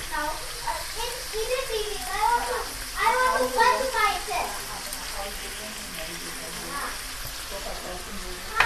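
Fish fry sautéing in a hot pan on a gas stove gives a steady hiss and sizzle that runs throughout, partly masked by voices talking over it.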